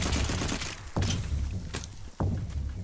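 Gunfire in the sci-fi shooter Firefall comes in three loud, punchy bursts, each a sharp crack with a short rumbling tail, spaced roughly a second apart over background game noise.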